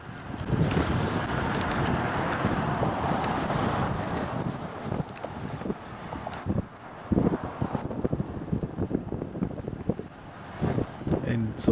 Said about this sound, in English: The wind is actually blowing from the right more than from the front.